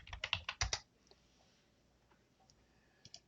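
Rapid burst of keystrokes as names are typed on a computer keyboard, close and crisp for under a second, then quiet with a couple of isolated clicks near the end.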